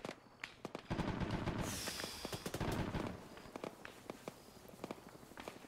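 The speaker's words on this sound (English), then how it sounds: "Get some cover, that's AA fire hitting us." Anti-aircraft gunfire in the military game Arma 3, a fairly faint scatter of sharp cracks and short bursts with a louder rushing blast partway through, rumbling in the background.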